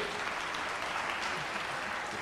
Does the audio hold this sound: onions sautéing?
no